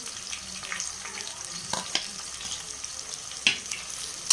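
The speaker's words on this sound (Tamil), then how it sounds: "வெங்காயம் நல்லா ப்ரௌனாக வதங்கணும்" Onions for chicken biryani sauté in a pan with a soft, steady sizzle, broken by a few sharp scrapes and clinks of stirring. The sound is fairly quiet and close, and nobody speaks.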